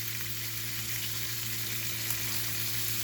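Bacon fries in cast iron and nonstick pans, giving a steady, close, even sizzle that crackles continuously throughout, with no voices.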